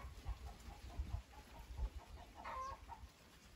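Chickens cluck quietly at their night roost on wooden beams, a series of soft, fairly distant clucks with one brighter call near the end over a low background.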